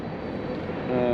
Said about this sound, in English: We just had a train right in front of us here too.